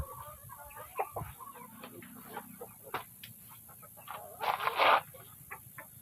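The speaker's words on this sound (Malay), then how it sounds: "Supaya kita dapat letakkan ayam BPR Pak Long yang baru sampai dalam episod yang lepas tu" Chickens at a coop cluck and squawk nearby in short irregular bursts, with one louder flurry of calls near the end over a quiet background.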